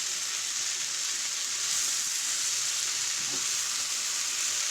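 Creamy cardoon casserole mixture with spinach sizzling in a hot pan while being stirred, a steady bright frying hiss with a faint scrape of the spoon, close and even throughout.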